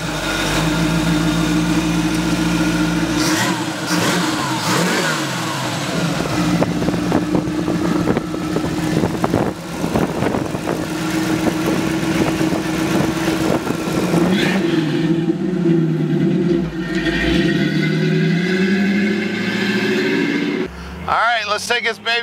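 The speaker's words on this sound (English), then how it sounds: "Let's take this baby for a ride." A 1929 Ford Model A Phaeton engine runs steadily and pulls away while driving, a continuous mid-pitched drone close by with shifting revs, with someone talking over it for much of the time.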